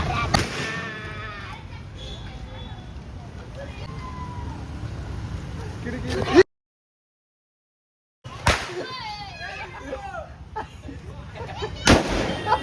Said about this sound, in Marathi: तो बॉम्ब वरती जाऊन फुटतोय